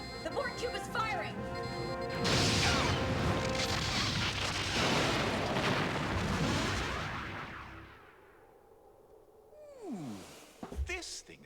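Heavy weapons fire from a Borg cube in a Star Trek FMV video game: loud crashing booms and rumbling blasts build and sustain, then fade into a quieter tail with a sweeping tone near the end.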